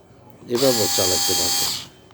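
A battery-powered Total cordless drill whirs steadily for over a second in reverse, a close, loud motor hum with someone speaking over it.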